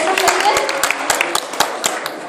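Scattered, distinct claps ring out irregularly from an audience at a school creative-problem-solving competition final. The sharp hand claps are close and fairly loud, with voices underneath.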